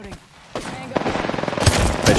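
Rapid automatic gunfire in the video game Apex Legends rattles in a fast, close burst after a couple of single shots, loud against the game's background noise.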